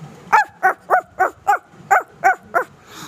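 A voice mimics a puppy with eight quick, high yips in a steady rhythm, close and clear.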